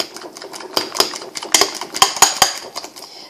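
Banana and egg pancake batter is beaten in a bowl, a fork or whisk clicking rapidly against the sides in an uneven, close, steady clatter with sharper knocks, no voice over it.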